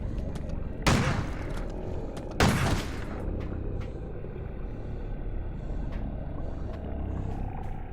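Two loud shotgun blasts from the video game Crow Country, spaced about a second and a half apart, each a sharp booming crack that decays quickly into a quiet ambient background.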